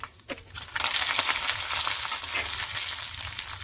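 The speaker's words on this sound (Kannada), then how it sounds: "ಸಾಸಿವೆ ಚೆನ್ನಾಗಿ ಸಿಡಿಬೇಕು. ನೋಡಿ ಈಗ ಸಾಸಿವೆ ಸಿಡಿತಾ ಇದೆ." Mustard seeds and curry leaves crackle and sizzle loudly in hot oil for a chutney tempering, a steady hiss with scattered pops, close by and uninterrupted after a brief start.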